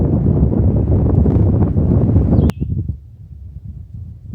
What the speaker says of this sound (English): the wind is cooling me down too